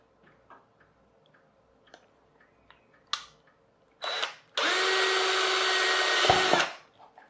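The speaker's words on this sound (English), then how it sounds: "This time I am drilling onto a piece of scrap wood." After a few light taps and clicks, a power drill whirs briefly, then drills steadily and loudly into a piece of scrap wood for about two seconds before winding down.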